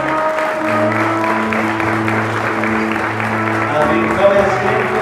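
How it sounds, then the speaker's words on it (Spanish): A church congregation applauds in worship, a steady bed of clapping running under sustained music chords and voices, continuous and fairly loud from start to finish. "Dile un aplauso al Rey."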